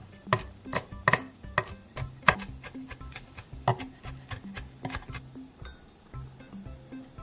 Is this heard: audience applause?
no